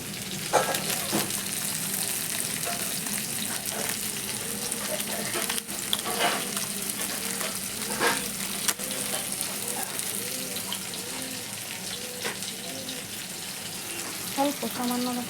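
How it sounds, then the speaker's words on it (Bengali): Meat masala spices with cumin powder are stirred and fried in a pan for a Bengali fish curry, giving a steady loud sizzle with scraping stirring strokes throughout and occasional clinks and a faint voice underneath. "আর যেটা করবো, এটাকে নাড়াচাড়া করবো, করে একটু ভাজা করবো"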